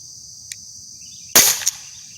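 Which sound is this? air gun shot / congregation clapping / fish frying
air gun shot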